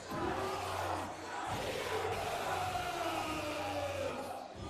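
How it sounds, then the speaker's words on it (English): A wrestling crowd roars and yells continuously during a wrestler's entrance, a dense sustained wash of shouting voices with brief dips, heard at a distance. "Brothemoth getting that crowd hyped up for his gigantic entrance"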